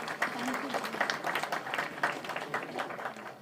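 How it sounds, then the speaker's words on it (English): Sustained applause from a conference audience for award winners at an IEEE conference valedictory function, steady dense clapping from many hands in a hall, with a voice faintly heard beneath it. "Let us all give a big round of applause to the award winners for their outstanding contributions."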